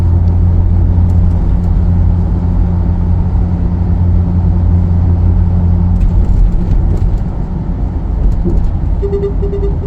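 Steady low engine drone and road rumble inside a Ford F-450 regular-cab XL chassis truck with a Supreme box body cruising smoothly, a constant loud hum with faint ticking and a brief chime near the end, no talk.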